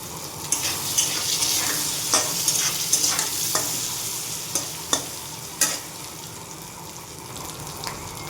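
Potatoes frying in oil with fenugreek and fennel seeds, a steady sizzle broken by sharp spatula clicks and scrapes against the pan at irregular intervals, close and with no voices.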